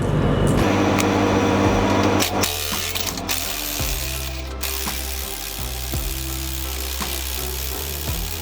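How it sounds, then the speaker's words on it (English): Torque gun rattling on the axle of a Peterbilt 389 truck, a loud continuous mechanical ratcheting clatter with repeated impact bursts and a heavy low drone throughout, close up, no talking. "Let me see if it'll actually work with the torque gun."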